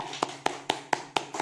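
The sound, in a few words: applause welcoming two young people in church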